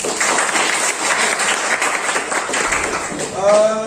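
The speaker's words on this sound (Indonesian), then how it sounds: "Tepuk tangan untuk kita semuanya." Pupils in a classroom lesson clap together in a steady burst of lively applause for several seconds, and a voice comes in briefly at the end.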